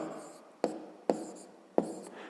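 A pen writes numbers on paper during a fifth-grade math exercise: a soft continuous scratch broken by three sharp strokes at a steady pace, close and quiet, with no talking.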